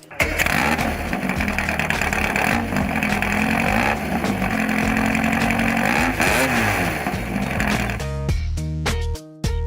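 A street rod's engine fires up and revs, a loud, dense rumble with rising and falling pitch sweeps that holds steady for about eight seconds before the sound breaks into choppier bursts.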